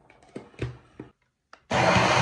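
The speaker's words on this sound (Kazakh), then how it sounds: "Осыны блендердің көмегімен езіп алатын боламыз барлығын" After a few soft knocks and clatters, a kitchen blender kicks on, purées lentil soup and roars steadily, loud and close.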